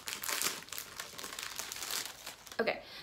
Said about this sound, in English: Excuse the crinkles.